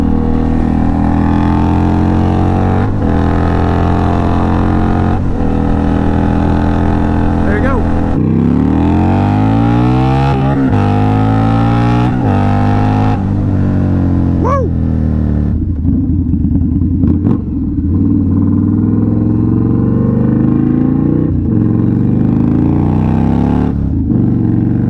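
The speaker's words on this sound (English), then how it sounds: "That is the Indian Scout exhaust demo. The exhaust being the True Brothers Racing Comp S." An Indian Scout Bobber motorcycle fitted with a True Brothers Racing Comp S exhaust, riding and accelerating through the gears, a deep, loud engine note rising and dropping in pitch with repeated shifts and wind buffeting.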